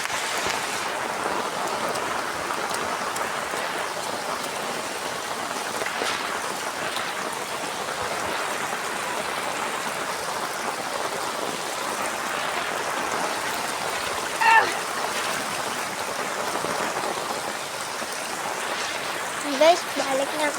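Heavy rain pours with floodwater rushing along a street, a steady dense wash of noise that holds throughout, with a couple of brief louder splashes near the end.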